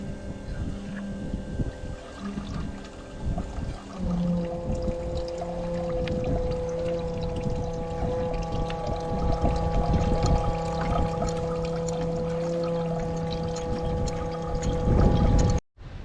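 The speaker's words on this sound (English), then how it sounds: "dump some diesel down into the gear case and try to flush this thing out a little bit better" Diesel fuel being poured into the gear case of a 1970s Hatz diesel compactor roller, a continuous gurgling pour with outdoor wind noise, running steadily for about fifteen seconds before stopping abruptly.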